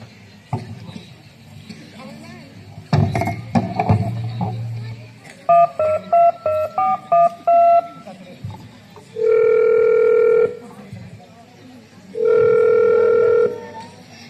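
During a children's school stage play about an old-age home, a telephone sounds a quick run of keypad dialing beeps. Two long, loud ringing tones follow with a pause between them, after brief talking at the start.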